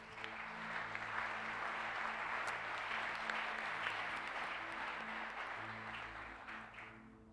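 A church congregation applauds during a Sunday service, a steady wash of many hands clapping that holds for several seconds before tapering off, with a low hum underneath.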